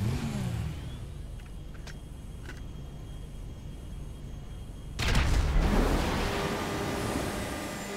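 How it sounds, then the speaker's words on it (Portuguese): Oppressor motorcycle in GTA V Online accelerating, a steady engine drone that jumps to a louder, rising surge of revving partway through, with no talking. "quando a granada explodir, a gente vai acelerar"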